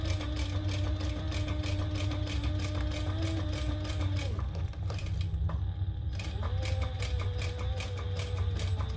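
Sewing machine running in steady rapid bursts as it stitches a vinyl handbag pocket, a close mechanical clatter that pauses briefly midway and then resumes, with no talk over it.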